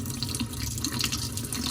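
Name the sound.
water pouring out of LARQ water pitcher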